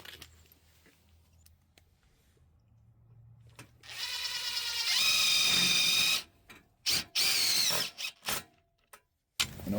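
A power drill drives screws to fasten an aluminum stair railing panel, with a sustained whirring run followed by several short, sharp bursts, close and loud after quieter handling noises.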